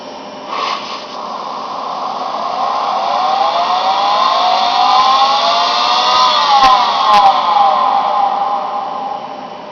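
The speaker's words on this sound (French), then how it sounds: "je mets en route l'aspirateur" A vacuum cleaner switched on to drive a rotating bell, running as a steady loud whine with rising tonal harmonics over a broadband rush, with a couple of brief clicks near the end.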